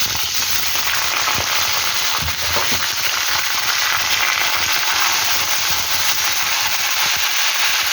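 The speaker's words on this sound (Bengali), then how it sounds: "চিকেনের সাথে আলুটাও ভাজবো, এই চিকেন ভেজে রান্না করবো।" Salted chicken pieces fry in hot oil in a pan with a loud, close, constant sizzle and crackle, broken by occasional sharper pops and stirring scrapes, with no talking.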